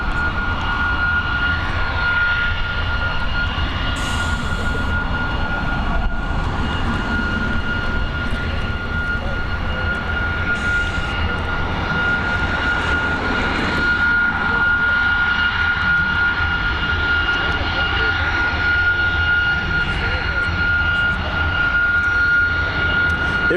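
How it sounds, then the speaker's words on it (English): A United Boeing 757 jet in Star Alliance livery arriving at Dublin Airport, its engines a steady, loud roar that holds throughout with a faint whine, while a voice talks intermittently over it. "Our next arrival is going to be a 757 operated by United with that Star Alliance livery on board."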